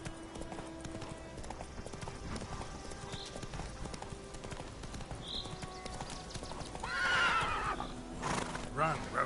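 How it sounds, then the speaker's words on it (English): Horse in a video game galloping with steady rapid hoofbeats under game music and sound effects, then giving a loud whinny near the end, followed by a shorter neigh. "Run, Roach."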